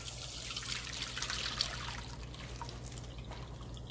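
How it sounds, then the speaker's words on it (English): Fermented hot pepper brine from homemade hot sauce strained off, giving a soft, steady trickle of liquid at moderate distance with no voices. "And then we're going to strain the brine off."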